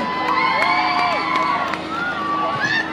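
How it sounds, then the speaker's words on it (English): Spectators cheer, whoop and shout continuously at the Blackpool 10k finish line on Middle Walk as runners come in, a dense crowd roar with children's voices audible. "Give these ladies a cheer."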